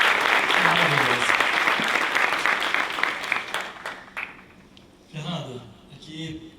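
Audience applause rises loud and dense at a talk on professional elegance, tapering off after a few seconds with a brief swell of voices and a second smaller burst near the end.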